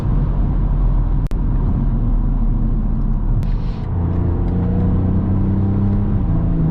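BMW car with a B58 engine driving fast on a highway, a loud, steady engine rumble and road roar from inside the cabin, with one sharp click partway through and no voices.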